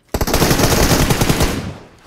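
A loud, close burst of rapid automatic gunfire in a PUBG-style battle royale game on the Livik map, a fast string of shots lasting under two seconds before fading out.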